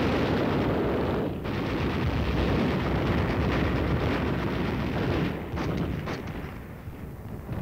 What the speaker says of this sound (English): a preparatory barrage of artillery fire is laid down on the aggressor-held shore